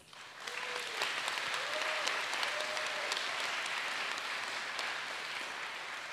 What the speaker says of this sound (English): please give your faculty and staff a round of applause